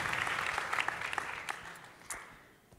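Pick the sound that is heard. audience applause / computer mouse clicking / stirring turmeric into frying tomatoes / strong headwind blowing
audience applause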